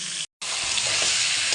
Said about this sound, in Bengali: এগুলো হচ্ছে তেলাপিয়া মাছ, এগুলো একটু ভেজে এগুলোও রান্না করব